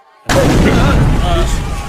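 Bomb explosions in war footage burst in with a sudden loud, rumbling blast after a brief silence, then sustain as a heavy, roaring din with what may be voices mixed underneath.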